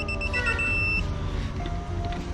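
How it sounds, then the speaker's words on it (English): A tire inflator gives a rapid series of short, high electronic beeps over a loud mechanical hum, then stops while the motor drone continues. "Just go till you hear the beeps."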